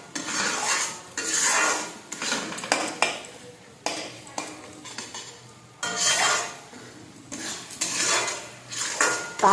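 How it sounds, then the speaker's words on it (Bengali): A spatula scrapes and stirs prawn masala for malai curry in a frying pan, making repeated rhythmic metal scraping bursts with a light sizzle underneath. "এবার এইটাকে সুন্দর করে এভাবে নেড়ে একটু ভাজা ভাজা করে নিতে হবে।"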